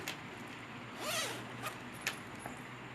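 A zipper on a denim bag sewn from overalls is pulled once in a quick rasping run, then a few short zip ticks and clicks follow, close and clear over a quiet room.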